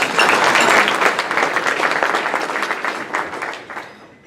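A Rotary club audience at a 150th anniversary commemoration of the burning of Columbia gives a round of applause, loud dense clapping that starts at full strength and gradually thins and fades away over a few seconds.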